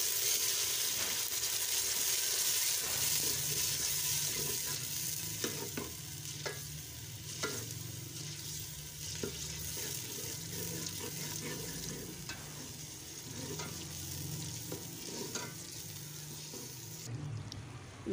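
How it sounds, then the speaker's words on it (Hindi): Ginger garlic paste frying and being stirred in a pan on a village cooking fire, a steady close sizzle with scraping stir strokes and a low hum underneath, and no one talking. "अब हम ये जो अदरक लहसुन का पेस्ट हमने ग्राइंड कर लिया ये डालेंगे।"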